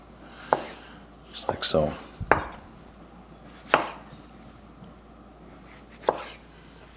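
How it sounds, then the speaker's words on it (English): Kitchen knife cutting tomatoes into smaller pieces on a cutting board, a few sharp separate taps spaced a second or two apart, with a voice speaking briefly between the cuts. "cut it in half, cut it in half again. I just kind of cut it down a little bit smaller"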